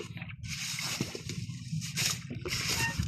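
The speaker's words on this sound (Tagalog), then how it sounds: "So malakas na yung agos." Strong river current flows and sloshes against a small boat on the way home from fishing, with irregular splashes and watery churning close by.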